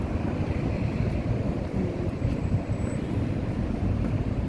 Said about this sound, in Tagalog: Mahangin na kasi. September na. Kaya mahangin.